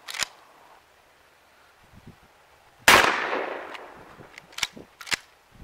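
A shotgun loaded with birdshot fires once at a water jug: a sharp, loud blast with a decaying tail, preceded by a faint pop and some quiet handling noises, and followed by several short clicks and ticks.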